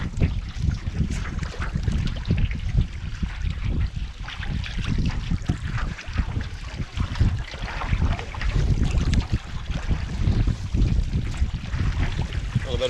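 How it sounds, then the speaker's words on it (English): Steady wind gusting across a lake during a canoe trip, a continuous low rumble with faint water sounds, no voices. "A little bit of wind coming across, but once again, it wasn't too bad."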